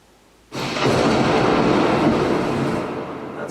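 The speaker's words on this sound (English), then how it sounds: "Thunder." A deep roll of thunder from a sample pack starts abruptly and rumbles steadily for a few seconds before slowly fading.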